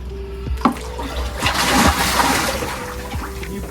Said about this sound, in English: Splash down.